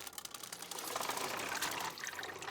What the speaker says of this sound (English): I hear water, but I do not see any.